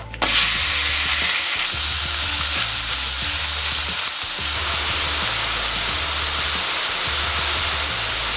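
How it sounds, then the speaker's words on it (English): Beef browning in hot coconut oil in a pan, a loud steady sizzle and crackle of frying with rhythmic stirring scrapes throughout, no voices. "Once the oil's heated up, go ahead and add the beef."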